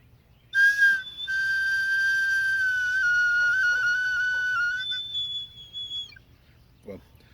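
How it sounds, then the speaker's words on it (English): A homemade whistle, made from a failed attempt at a Cherokee four-finger flute with its back end plugged, sounds one long, steady, shrill note that wavers slightly and fades out, followed by a brief knock. "What I did make was a really good whistle if you plugged the back."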